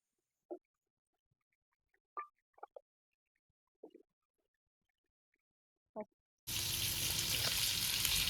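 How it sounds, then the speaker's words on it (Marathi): A few soft clicks and taps, then a loud, steady sizzle of fish frying in oil on a griddle begins abruptly and continues close up. "कोलबी आपण टाकूया तव्यावर"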